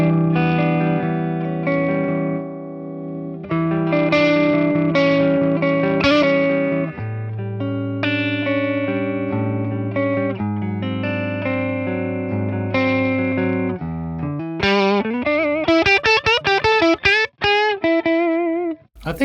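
An electric guitar played on its neck pickup through a 1963 Fender Brown Deluxe amp rings out in sustained chords and single notes, then a run of quick bends and fast licks near the end, loud and continuous.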